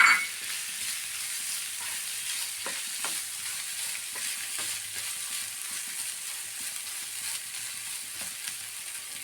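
Grated coconut fries gently in a pan for a Kerala tapioca and egg fry, a soft, even sizzle that carries on steadily with a few faint stirring clicks and no talking.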